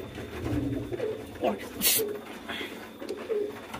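Pigeons cooing on a pigeon farm during feeding, several soft, rolling coos repeating at close range over a steady background, with someone speaking intermittently between them.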